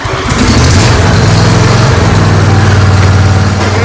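A John Deere LA165 lawn tractor engine fires up and settles into a loud, steady running drone at close range, with no talk over it.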